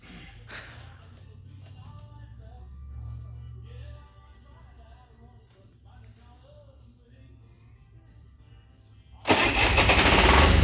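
Lanz Bulldog two-stroke diesel tractor in a start attempt: a low rumbling turnover that fades with nobody running, then a sudden loud roaring burst near the end, and quiet voices in between.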